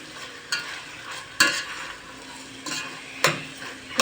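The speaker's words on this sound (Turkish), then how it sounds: "Şöyle 3-4 dakika kavuruyorum. Daha da lezzetli oluyor salçası, soğanı." Onions and tomato paste sauté in a pot for a lentil dish, a soft steady sizzle punctuated by several sharp spoon scrapes and knocks against the pot as it is stirred.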